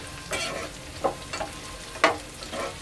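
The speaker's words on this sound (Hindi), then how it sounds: "अब बीन्स को हल्का सा फ्राई कर लेंगे।" Beans frying lightly with onion in a pan for veg chow mein give a soft, steady sizzle, broken by a few quiet stirring scrapes and taps, with no talking.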